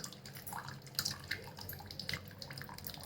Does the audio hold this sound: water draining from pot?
yes